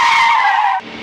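Car braking hard with tires skidding, a loud, close squeal that holds steady and then drops off abruptly near the end into a quieter hiss.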